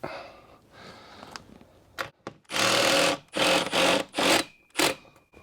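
A power drill whirs in several short, loud bursts, briefly stopping and starting as it drives a screw through a pad with the torque set too low.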